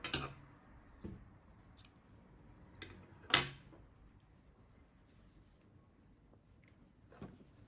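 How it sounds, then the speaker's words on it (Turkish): Scissors snip crochet yarn while finishing a baby hat, giving a few sparse, crisp clicks spread across a quiet room, one noticeably louder than the rest. "İpliği kesiyorum."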